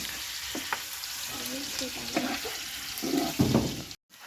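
Chicken tawa frying in a pan over a village cooking fire, a moderate continuous sizzle with a few soft stirring knocks, ending in a brief cutoff.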